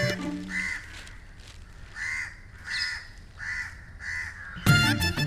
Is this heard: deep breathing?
no